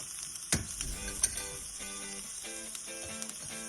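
Cabbage thoran with turmeric powder being stirred in a pan, a soft steady sizzle with scraping stirs and a few sharp utensil knocks against the pan.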